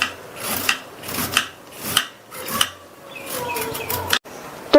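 A medium-sized carrot scraped with a peeler, a series of about seven rasping strokes in an even rhythm, close and fairly loud.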